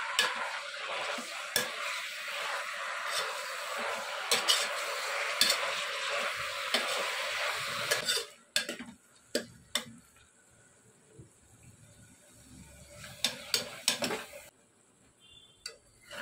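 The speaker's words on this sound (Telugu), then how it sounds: "ఆయిల్ బాగా వేడెక్కిన తర్వాత ఇందులో గోంగూర వేసుకోవాలి" Gongura leaves fry in hot oil in a pan, starting with a loud, dense sizzle that cuts off sharply after about eight seconds, then a quieter hiss broken by scattered clicks and scrapes of a utensil against the pan.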